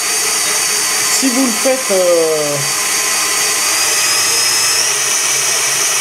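An electric mixer whips egg whites for macarons, giving off a steady, loud high-pitched whir throughout while a person speaks briefly over it.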